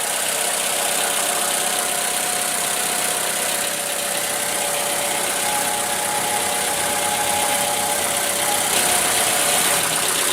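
A 2014 Toyota RAV4 2.5 L four-cylinder engine idles steadily up close, a continuous mid-pitched hum with a faint rhythmic knock, no talking.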